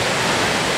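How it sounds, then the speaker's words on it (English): Mooney Falls at Havasupai, a big waterfall plunging a long drop, roaring as a loud, steady broadband rush with no other sounds. "Here we are at Mooney Falls, and that is the Mooney Falls, and it goes way down."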